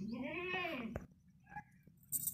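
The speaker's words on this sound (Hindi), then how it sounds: "ये देखें दूध वाली बड़ी बकरी है" A big dairy goat gives one clear, close bleat that rises and falls, followed by quieter rustling and small sounds in a livestock setting.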